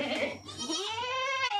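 A goat that has just given birth to two kids bleats close by in a long, wavering, nasal call that rises and trails off, loud and alone.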